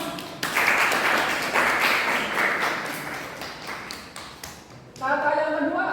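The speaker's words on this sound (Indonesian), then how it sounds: "Bagus, tepuk tangan dong." A class of students in an Indonesian classroom claps hands together for a few seconds in a brisk, close patter, then it stops abruptly and a voice begins speaking.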